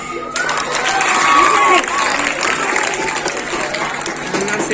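Students clapping and cheering in a school classroom after the first group wins a maths quiz, a dense, steady burst of crowd applause with excited young voices throughout, peaking early and then easing slightly.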